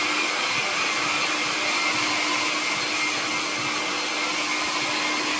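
A hair dryer blows in a steady, continuous roar throughout, close and loud with no talking.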